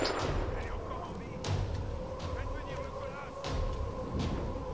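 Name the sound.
gunfire from weapon in Tomb Raider video game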